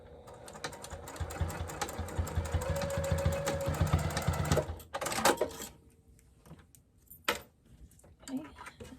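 A sewing machine runs a straight line of stitches on a crossbody bag, a steady fast mechanical whirr for several seconds that stops, followed by a few quieter clicks and handling sounds while a person talks softly.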